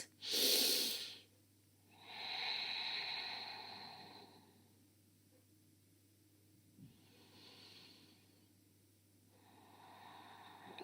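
Deep yoga breaths during a side plank conditioning session: a sharp nasal exhale, then several slow, audible inhales and exhales through the nose, close and fairly quiet.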